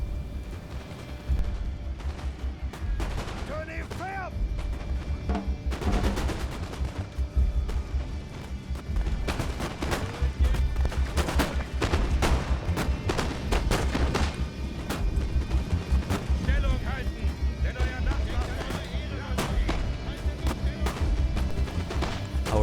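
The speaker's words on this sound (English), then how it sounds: "after huge volleys of fire from the Prussian lines" Prussian infantry lines firing musket volleys in a strategy video game, a dense crackle of overlapping shots and booms sustained throughout, with commentary talk over the battle noise.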